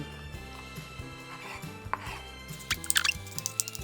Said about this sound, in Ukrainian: Ми беремо цю печінку і починаємо її нарізати